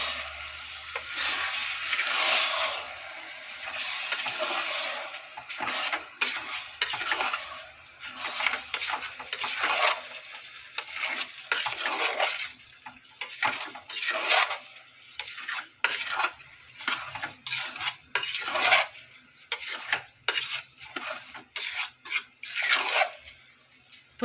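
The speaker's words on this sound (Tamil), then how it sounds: "இப்போ அரிசி சேர்த்துட்டு நல்லா கிளறி விட்டுறலாம்." Rice is stirred in a frying pan with a spoon, giving repeated scraping and rattling strokes over a soft sizzle, in uneven bursts through a long stretch of kitchen sound.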